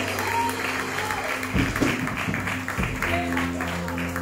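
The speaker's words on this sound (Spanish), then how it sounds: "de un aplauso a Cristo, bendito sea el Señor." A church congregation at a sermon in San Cristóbal applauds steadily, a dense wash of clapping with a held organ or keyboard chord underneath and a voice speaking faintly over it.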